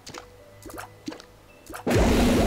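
Water dripping in The Binding of Isaac, a few soft separate drips and plops at a slow uneven rhythm, followed by a louder burst of splashing liquid at the end.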